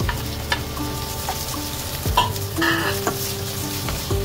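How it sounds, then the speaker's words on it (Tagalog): Ginger being stirred into garlic fried golden brown with onion in a pan, a steady loud sizzle with scraping and clinking stirring strokes throughout. "Pagka golden brown ang ating bawang guys, halo natin yung ating luya sa pasibuyas."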